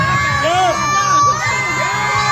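A crowd of children at an alligator show yells and cheers together, loud and sustained, with overlapping shouts and whoops.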